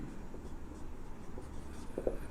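Notes are written on a board during a chemistry lesson on the oxygen family, producing a steady run of close scratchy strokes with short pauses and no talk over them.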